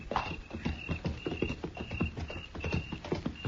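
Several horses' hooves clip-clop at a steady walking pace as riders move along in a Western setting, a close, continuous rhythm with no voices.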